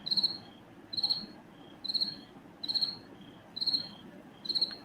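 A cricket chirps in regular pulsed trills, about once a second, shrill and clear over a soft background hiss.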